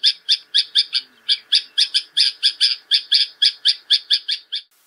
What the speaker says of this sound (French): ils utilisent une enceinte qui diffuse différents types de cris de bulbule